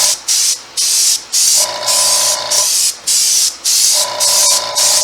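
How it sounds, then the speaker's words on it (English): An airbrush sprays paint onto a latex mask in repeated hissing bursts, about a dozen short blasts with brief gaps between them. A faint mechanical hum sounds beneath some of the bursts. "Load it right in the airbrush, and you're gonna airbrush that color from far away"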